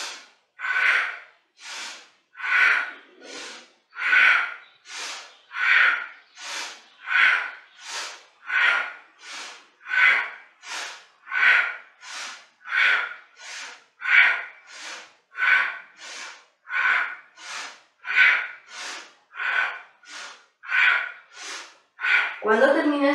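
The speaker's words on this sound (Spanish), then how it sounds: "Haz la respiración sonora, poderosa, haciendo un ligero roce, impedimento en la garganta" Powerful Kundalini yoga breathing with a slight throat constriction: about twenty-five loud, rhythmic breaths in an even fast cadence, each a breathy, rasping rush, close and alone without talk.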